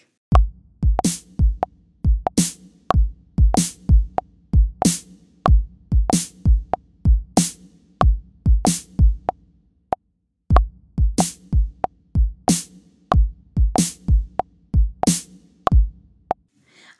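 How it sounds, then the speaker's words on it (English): A drum track played slightly out of time against a simple click track, with sharp, loud regular hits in a steady pulse, a brief pause near the middle, then the pattern resumes with no speech. "So here's an example of a drum track that is slightly out of time."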